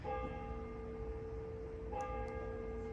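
A bell rings with a steady sustained tone that fades slowly, then is struck again partway through, fairly faint against a quiet indoor background.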